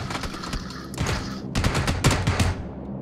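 Gunfire in the video game PUBG crackles in rapid bursts, with sharp repeated shots crowding together over a few seconds before trailing away.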